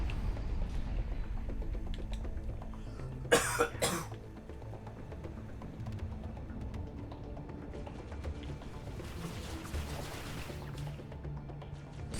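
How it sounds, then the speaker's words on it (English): Coughs burst close into a microphone, a tight cluster of three or four harsh hacks, loud against a steady background of game noise and soft clicking during a gaming session. "I just coughed right into the mic."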